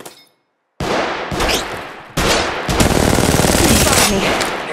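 Rapid automatic gunfire bursts in the mobile battle royale game Apex Legends Mobile, dense and loud after a brief silence, continuing in sustained volleys with a short gap before a second heavy stretch.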